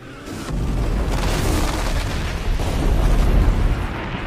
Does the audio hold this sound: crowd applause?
no